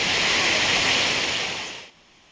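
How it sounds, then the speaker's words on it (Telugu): Waterfall at Srisailam, Andhra Pradesh, pouring as a bright, steady broadband rush heard close and loud, then fading out sharply near the end. "చూస్తున్నారు కదా వాటర్ ఫాల్స్ వ్యూ అయితే ఎంత ఎక్సలెంట్గా ఉందో"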